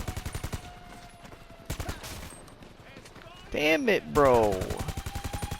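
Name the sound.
gunfire in GTA V video game heist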